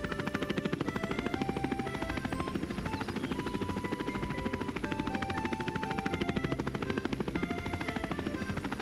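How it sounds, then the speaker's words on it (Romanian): Cartoon drone lifting off and flying, a loud steady rapid whirring buzz with a rhythmic chopping pulse that continues throughout under background music. "Drona se ridică!"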